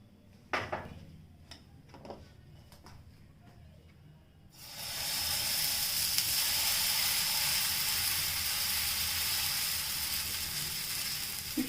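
Elephant yam dosa batter hits an oiled tawa and breaks into a loud, steady hiss of frying that holds close and constant, after a few faint clicks and knocks in near silence.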